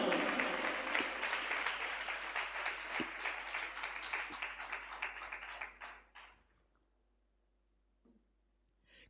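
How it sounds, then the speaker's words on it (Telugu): Congregation at a church sermon clapping loudly and steadily in sustained applause for about six seconds, then the clapping fades out to near silence with a few scattered claps. "గట్టిగా చప్పట్లు కొట్టి ప్రభుని మహిమపరుద్దాం."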